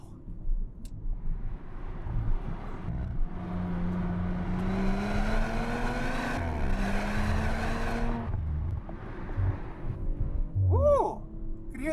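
An Audi RS5 Sportback Ascari Edition accelerates on the road, its engine note climbing through gears with rising turbo whine, heard from inside the car at moderate loudness before easing off.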